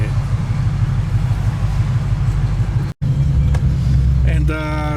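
Tuned 2017 Ford Mustang GT engine roaring loud and close as it accelerates, a steady deep growl with a brief cut before it pulls on, a person's voice faint underneath.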